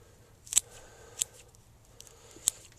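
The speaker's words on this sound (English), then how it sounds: "Going to give it a little bit of a cut like this." Three sharp snips of scissors trimming a small shohin Premna bonsai tree, spaced about a second apart, close and crisp against a quiet background.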